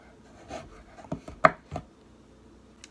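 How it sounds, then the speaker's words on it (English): A knife chops chocolate on a board in a handful of quick, uneven cuts, close and fairly soft, with a short pause between strokes. "all I'm doing now is just chopping up chocolate"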